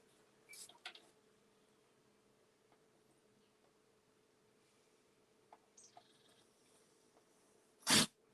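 A dog lets out one sharp, loud sneeze indoors in a quiet workshop, preceded by a few faint snuffles and small rustling noises.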